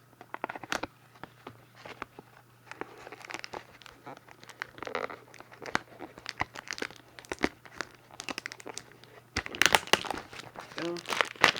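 Plastic wrapping torn and crinkled off a Yu-Gi-Oh structure deck, with close, irregular crackling and ripping that grows louder and denser toward the end.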